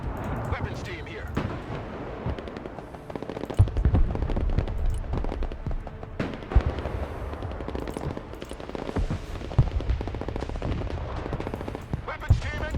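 Gunfire crackles steadily in the video game Broken Arrow, with machine-gun bursts and scattered heavier booms under a busy battle din, while voices talk over the fighting.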